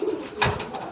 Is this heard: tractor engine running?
no